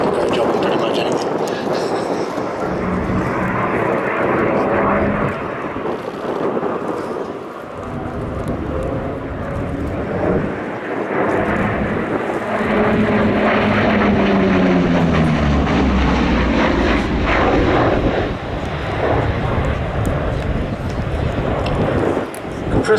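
Propeller warbird performing a display at an airshow, its engine drone rising and falling with passes, including a sweeping pitch change, under continuous commentary.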